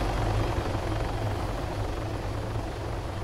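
Helicopter rotor and engine drone in the Arma 3 military shooter game, a steady loud continuous whir with deep low thumping, running alone without talk for the full length.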